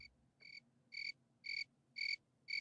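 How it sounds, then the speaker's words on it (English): Cricket chirping as a comedic sound effect: five or six evenly spaced, bright pulsing chirps about half a second apart, clear and alone against a quiet background. "Do I have the crickets queued up?"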